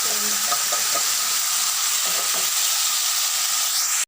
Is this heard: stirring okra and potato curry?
yes